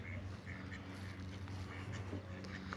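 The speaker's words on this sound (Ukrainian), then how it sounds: "О, і качечка приплила." A female duck quacks a few times over a steady low rumble, faint and somewhat distant with outdoor background noise.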